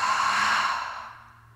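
A single long, deep exhale during a slow yoga flow, breathy and close, starting strong and trailing off gradually into quiet with no talking.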